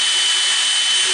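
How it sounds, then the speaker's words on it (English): An electric drill bores a hole through the center of a plastic barrel for a game feeder, a loud, steady, close whine that holds level throughout. "I'm going to take a drill bit here and I'm just going to drill a hole in the center"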